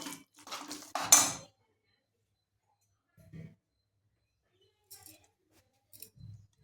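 Metal utensils clink and scrape against a pot as jaggery is added to cooled cooked rice for a sweet rice dish. A brief burst of clattering comes first, then a few faint, scattered knocks with long quiet gaps.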